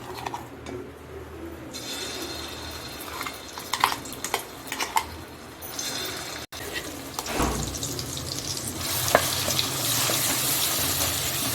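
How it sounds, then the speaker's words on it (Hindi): Ground spice paste for Punjabi chicken sizzles and fries in hot oil, with a spoon scraping and stirring the pan now and then; the frying grows louder toward the end. "तेल में अच्छे से भून लेंगे"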